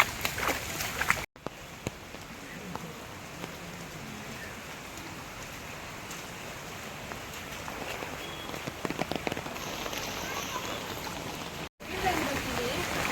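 Floodwater rushes steadily through a stream in a continuous wash, with occasional splashes and faint voices in the background.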